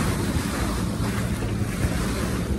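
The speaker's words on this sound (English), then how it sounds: "Cruising along, motor sailing north, a touch of wind." A sailboat motor sailing north with its genoa out at about 6.5 knots produces dense, steady rushing water and wave wash with heavy wind buffeting on the microphone, loud and continuous.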